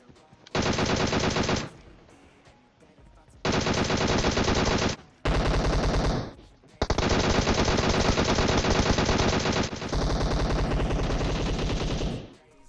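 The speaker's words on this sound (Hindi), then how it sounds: "मेरा टीममेट ये M762 चला रहा है ना, इसकी आवाज इतनी तेज आ रही थी" Rapid automatic M762 rifle fire in PUBG Mobile comes in several loud sustained bursts separated by short pauses, close and harsh.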